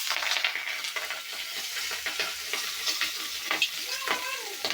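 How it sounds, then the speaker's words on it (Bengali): Pabda fish pieces frying in very hot oil, a steady close sizzle with crackling pops and spatters running throughout, loud and continuous with no talking. "তো মাছটা আমি হালকা করে ভেজে নিব"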